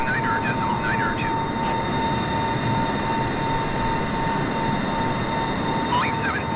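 A Boeing 747 in flight in Microsoft Flight Simulator 2020 gives a loud, steady cockpit engine drone with a constant tone running through it, and brief chirpy sounds near the start and end.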